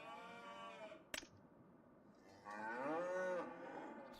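Cattle on a farm give two long, drawn-out moos, the second louder and fuller after a brief sharp knock between them, with no talking over them.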